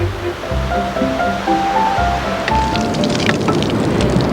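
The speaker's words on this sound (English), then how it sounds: "I thought the pump was a rather marvellous feature to have in your garden and great for when you want to water the plants" Water gushes from an old pump in a country garden, a loud, steady rushing splash close by, with a soft tonal melody playing underneath at the start.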